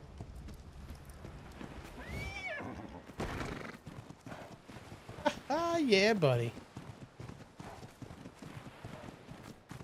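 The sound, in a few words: horse hooves galloping in video game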